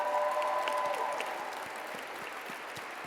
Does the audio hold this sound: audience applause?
yes